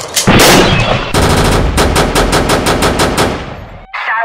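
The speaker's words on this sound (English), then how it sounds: "Shots fired, shots fired." Rapid automatic gunfire rips out in a film scene, loud and close, a dense burst followed by a string of evenly spaced shots before a short pause and a final burst.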